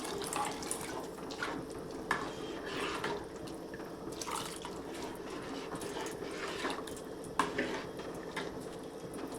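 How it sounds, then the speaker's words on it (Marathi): Water poured into cooking moong dal, a steady trickling splash under kitchen clatter with a couple of sharper knocks, no voices. "बघा थोडं पाणी टाकते"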